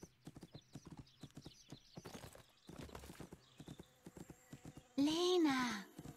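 Rhythmic hoofbeats gallop as a unicorn rides in the video game The Unicorn Princess, a quick, steady clip-clop under excited talk, ending in a loud whinny.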